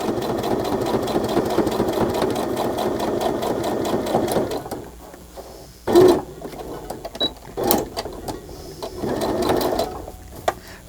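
A sewing machine stitches through layers of paper while making pockets, a fast close mechanical chatter that runs steadily, stops, then resumes in short bursts with pauses between.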